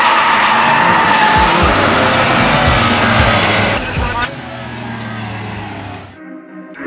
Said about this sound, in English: we are actually getting paid to burn rubber